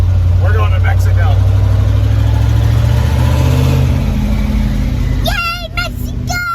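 A car accelerates in first gear with a steady, loud engine drone and a rising pitch, while people speak briefly near the start and again near the end.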